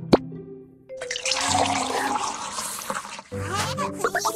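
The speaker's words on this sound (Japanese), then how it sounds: "まずお湯を入れて" Hot water pours into a baby bottle in a BabyBus baby-care video game, a steady cartoonish gush of liquid lasting a couple of seconds after a short chime, ending with bubbly drips.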